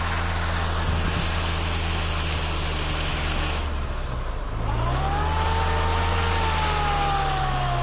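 An off-road car churns through deep mud after rain, its wheels clogged, with the engine droning steadily and then revving up into a rising, straining whine; no talking.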